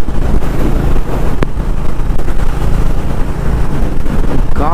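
Strong wind on a motorcycle ride through Leh Ladakh roars hard and constantly into the microphone, a loud, dense buffeting rush that never lets up.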